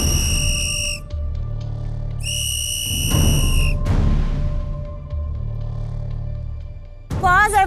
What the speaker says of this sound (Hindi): सीटी बज गई